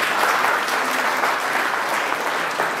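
A crowd claps together in a steady, dense round of applause at a felicitation ceremony, holding an even level throughout with no voices heard over it.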